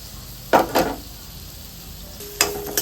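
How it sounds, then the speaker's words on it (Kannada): Onions fry in oil with mustard seeds. A steady faint sizzle is broken by two quick stirring scrapes near the start and another near the end, all close and with no talking. "ಈರುಳ್ಳಿ ಬ್ರೌನ್ ಆಗೋವರೆಗೂ ಚೆನ್ನಾಗಿ ಫ್ರೈ ಮಾಡಬೇಕು."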